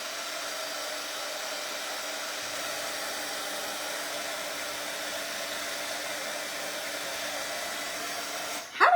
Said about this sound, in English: I used a friction pen, so that's why I'm using the heat gun,